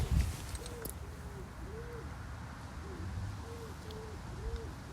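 An owl hoots repeatedly in a steady series of soft, rounded calls at moderate distance outdoors, with a brief thump near the start and faint background noise.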